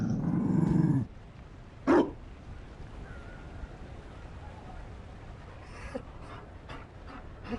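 A Mabari war dog in a fantasy video game gives a loud burst of growling and panting, then a sharp bark-like yelp. A few faint yips and short voice fragments follow over a quiet hum.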